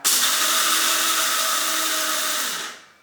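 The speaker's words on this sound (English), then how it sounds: "this is just a run-of-the-mill coffee grinder, and what I've done is I've taken the coffee grinder and I've filled it with the buckwheat" A run-of-the-mill coffee grinder grinds buckwheat into flour in one loud, steady, high whirring burst of about two and a half seconds that then cuts off and winds down.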